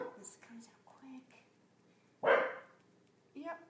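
A pet dog at home gives a single loud bark partway through, standing out against quieter background sounds and soft voices in a kitchen.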